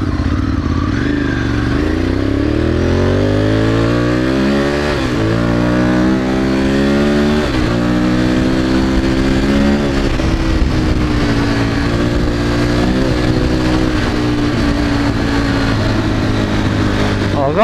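Loud Honda CG motorcycle engine revving up and down in repeated pulls, its exhaust note rising in pitch, close and dominant throughout.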